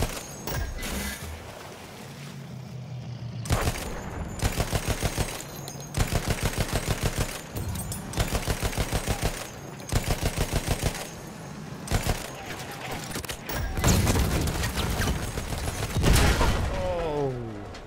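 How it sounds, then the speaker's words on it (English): Repeated cannon and gunfire blasts in a Battlefield video game, arriving in rapid rhythmic bursts separated by short pauses, loud and close, with heavier rumbling impacts toward the end. "Oh, the cannon got us."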